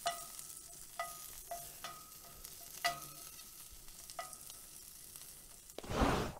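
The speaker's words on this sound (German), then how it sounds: "Unser Spargel ist jetzt gerade ein bisschen am Anbraten." Asparagus frying quietly in a pan with a soft steady sizzle, punctuated by occasional clinks of a utensil, ending in a louder scrape.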